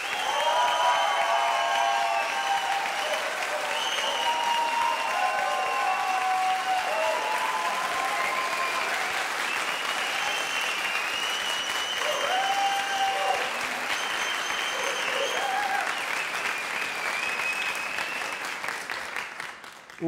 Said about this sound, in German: Dann klatscht bitte jetzt, so laut ihr könnt,